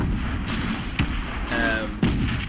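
Missiles launch in the space game Space Engineers, sounding as sharp booming bursts roughly a second apart over a constant loud rumbling background, each blast punchy and close with a short decaying tail.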